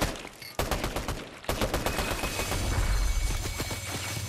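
Rapid bursts of gunfire in the video game Fortnite crackle close and loud, a dense string of sharp shots that breaks briefly, then resumes in clustered volleys over a low rumbling game background.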